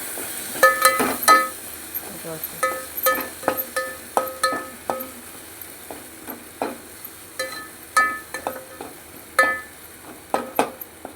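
A spoon scrapes and clinks around a pan as masala fries in oil, with steady rhythmic strokes against the metal over a faint sizzle. The sound is close and clear, and no one talks.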